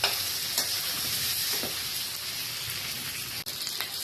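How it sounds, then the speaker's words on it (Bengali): Salt and turmeric being stir-fried in a pan, a steady close sizzle with scraping stirs running throughout, no voices. "নুন হলুদ দিয়ে দিলাম। এবার একটুখানি কষতে হবে।"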